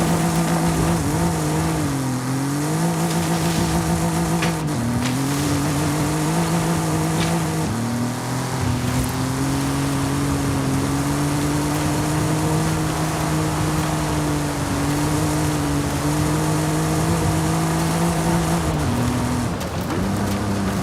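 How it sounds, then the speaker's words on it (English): In Forza Horizon 5, a VW Golf R32 Mk.4 engine drones and revs steadily, its pitch rising and dipping through gear changes in a continuous loud hum lasting the whole stretch. "I might be revving the engine out too much"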